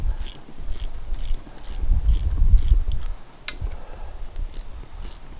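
Bolts tightened in a cross pattern on a David Brown 990 tractor PTO, with sharp, evenly spaced ratchet clicks in bursts over a low mechanical rumble, close and fairly loud.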